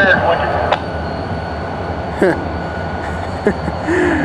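A freight train rumbles steadily nearby in a rail yard at Denver, with a few sharp metallic squeals and clanks breaking through at intervals.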